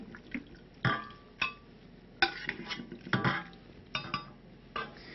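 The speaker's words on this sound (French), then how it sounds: "Je mets les haricots dans le récipient." Cooked Tarbais beans tumble into a blender container in a series of soft, close clinks and wet knocks, each a short separate strike spaced a second or so apart, with no talk.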